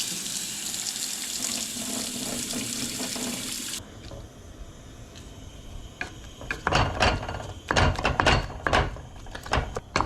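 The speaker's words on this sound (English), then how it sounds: "So I'm just gonna add a little water so it doesn't scorch." Water runs from a tap for a few seconds as it is added to a pot of blackberries and figs for preserves, a steady close splashing rush, followed by softer clattering and knocking handling sounds.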